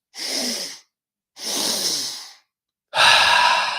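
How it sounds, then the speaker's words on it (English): Three deep, loud breaths during a guided breathwork session, each a long airy rush separated by short silences, the third the strongest, heard alone with no talking. "Let's take 3 more breaths."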